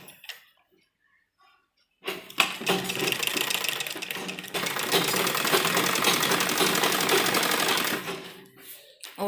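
After a near-silent pause, a sewing machine starts up and stitches a kurta seam in a steady, rapid, close-up run for about six seconds before slowing and stopping.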